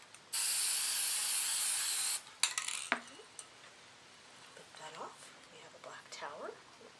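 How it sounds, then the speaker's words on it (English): Black matte spray paint hisses through a stencil in one steady, loud two-second burst, followed by quieter clicks and handling noises. "the black matte paint, it dries really fast, so I'm able to work pretty quickly with the spray paint"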